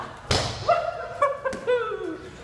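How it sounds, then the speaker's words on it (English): A kick lands on a CAMTOA boxing punch mitt with one sharp thud, followed by a few lighter impacts and some ringing, squeaky resonance. "Let's try a kick real quickly here."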